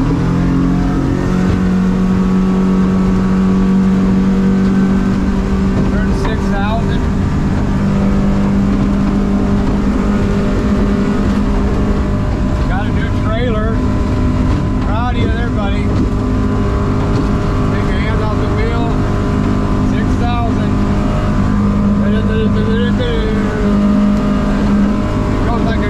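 A powerful Yamaha F150 outboard motorboat engine roars continuously at close range, droning steadily with rising and shifting tone as the boat accelerates onto plane across the water.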